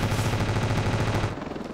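Rapid machine-gun fire from a door gunner aboard a Huey-style helicopter with M60s in the video game Ravenfield, a loud dense burst that cuts off near the end.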